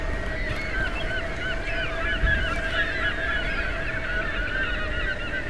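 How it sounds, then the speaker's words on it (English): Seagulls in the Tomb Raider video game give repeated high calls that overlap into a continuous chorus, set against a steady low ambient drone with no talking. "What the hell has those seagulls spooked?"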